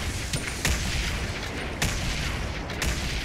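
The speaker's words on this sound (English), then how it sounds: "right there, you heard grenade launchers" Grenade launchers firing in Fortnite, a handful of punchy booms and blasts spaced irregularly over a dense, noisy game soundscape, loud and close, with no talking.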